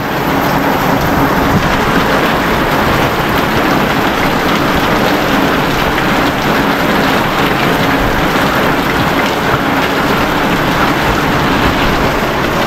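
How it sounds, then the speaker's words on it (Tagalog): Heavy rain pours down in a dense, constant hiss, loud and unbroken throughout. "malakas na naman yung ulan"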